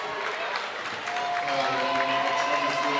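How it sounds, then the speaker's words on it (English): Basketball crowd at a Meadowcreek home game clapping and cheering, a steady dense wash of applause with excited voices rising through it, loud and sustained throughout. "the Meadowcreek crowd now claps and stands up"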